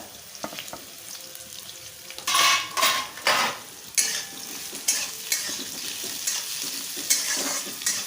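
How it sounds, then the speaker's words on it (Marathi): Thinly sliced onions fry in a pan for chana dal paneer pulao, with a soft sizzle underneath and repeated loud scraping and clinking of a metal spoon stirring against the pan in irregular bursts, close up. "आता कांदा चांगला लालसर होईपर्यंत भाजून घ्यायचा"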